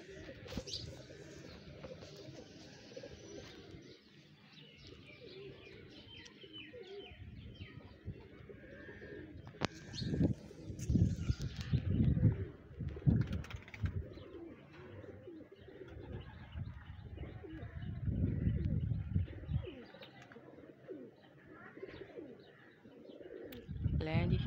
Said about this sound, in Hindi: ये छत पर कुछ कबूतर फेर रहे हैं,